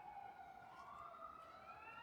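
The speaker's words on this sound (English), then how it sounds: "So an ambulance is going by." A distant ambulance siren wails faintly as it passes, its rising and falling tone sweeping steadily through the whole stretch with no talk.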